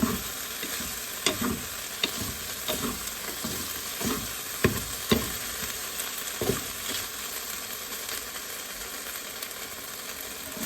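Ginger pork for shogayaki fries in a pan with a steady, loud sizzle, while a utensil stirs and scrapes the meat in irregular clacks across the cooking.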